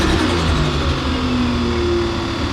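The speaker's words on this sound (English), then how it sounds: "Give it a rev" A car engine revving hard in a workshop right after a freshly installed part, the ECU unhappy; a loud, steady, sustained drone with no voices over it.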